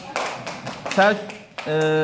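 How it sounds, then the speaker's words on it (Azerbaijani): First-grade classroom children clap together in a brief, quick spatter of applause, heard only around a voice talking over the room. "Alqışlayaq uşaqlar. Gözəl alqışlayaq. Qəşəng alqışlayaq."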